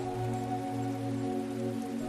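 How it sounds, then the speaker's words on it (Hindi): Steady rain falls in an even, unbroken wash of pattering drops over a low continuous hum, with no talking. "अब चूंकि धरती पर लगातार कई सालों तक बारिश होती रही"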